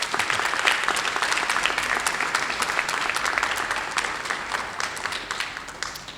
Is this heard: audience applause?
yes